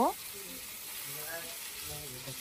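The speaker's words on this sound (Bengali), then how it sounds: "এখন চিকেনগুলোকে আমি আলাদা আলাদা করে ভেজে নিব" Chicken pieces frying in a pan for a family party dish, a steady soft sizzle continuing throughout, with a brief clatter at the start.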